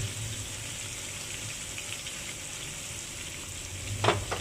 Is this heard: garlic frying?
yes